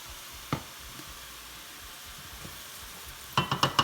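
Onions frying in a pan as a fish pie sauce is started, a soft steady sizzle close by and fairly quiet, broken by a single knock early on and a quick run of utensil taps near the end, no talking.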